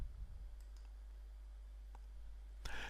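A single mouse click on a button during a Joomla 3 website installation, heard as a sharp, close tick near the end of an otherwise quiet stretch.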